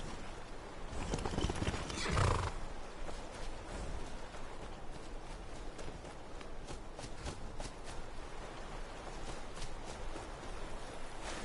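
Horse in the Skyrim video game whinnies loudly near the start, then hooves clop in a steady walking rhythm under a constant ambient bed, the footfalls continuing to the end.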